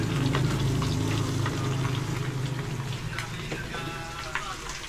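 Fish frying in a pan at a lakeside cookout, a steady crackling sizzle running loud and continuous throughout, with some faint background noise.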